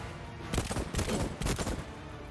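Machine-gun bursts in the Voidtrain game: three loud rattling volleys separated by brief gaps, close and dominant over a steady background hum.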